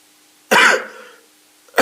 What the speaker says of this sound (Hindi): खांसी कुछ ज्यादा ही हो रहा है।